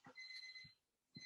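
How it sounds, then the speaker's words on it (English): Thin electronic beeps sound in short repeated pulses during an online astronomy club meeting, faint and steady with soft thumps in between. "can anybody hear that beeping?"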